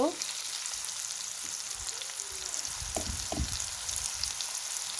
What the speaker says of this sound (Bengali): এখন পরিমাণ মতন তেল দিয়ে দিব। এখন দিয়ে দেব পেঁয়াজ কুচি